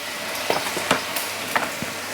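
Soy sauce sizzling and spitting in a hot pan while eggplant is stir-fried, a loud steady hiss with several sharp crackles and stirring scrapes, no talk.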